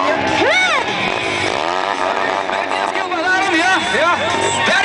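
A mini dirt bike engine revs hard at a bike show in Kaunas, with rising and falling whines over a noisy, cheering crowd.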